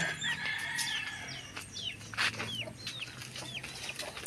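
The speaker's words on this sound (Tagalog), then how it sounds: "ang mga manok nag-iintay na po" Chickens cluck and a rooster crows in a quiet rural spot, with sharp, fairly close calls repeating over a soft, steady background.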